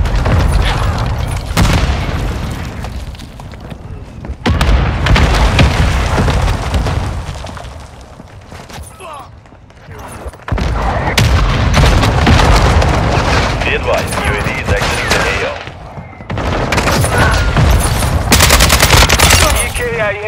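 A military shooter video game with loud grenade blasts and heavy bursts of gunfire, dense and booming in long stretches separated by short quieter lulls, with voices faintly mixed in.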